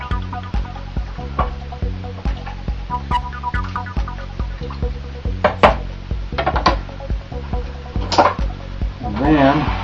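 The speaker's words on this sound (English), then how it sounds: "And we give that a little stir" A spoon stirs two bean chili in a pot, giving repeated scraping and clinking strokes in a steady rhythm, close and fairly loud, with a low hum underneath.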